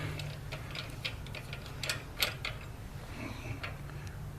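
An Allen wrench turns out the transmission dipstick on a Harley Street Glide motorcycle, producing faint, quick metallic clicks and ratcheting ticks in an irregular series, with no talking.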